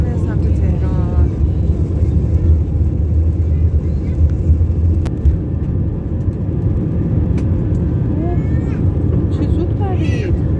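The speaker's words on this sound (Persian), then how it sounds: "هواپیما داره حرکت میکنه سمت تهران" Steady, loud cabin roar of an airliner flying out of Kish Island toward Tehran, a continuous low rumble and whir throughout with faint voices in the background.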